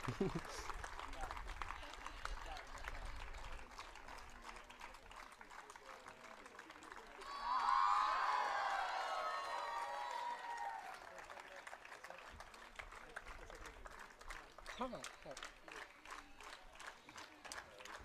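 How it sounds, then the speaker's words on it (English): A crowd at the launch of FIFA Football for Schools in India breaks into applause and cheering for several seconds midway, rising swiftly and fading out, between stretches of a speaker's amplified announcements. "getting the loudest cheer"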